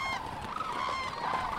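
Cranes call as a sound effect in a dramatized German reading of the ballad 'Die Kraniche des Ibykus', a loud, continuous stretch of overlapping honking cries filling the whole moment.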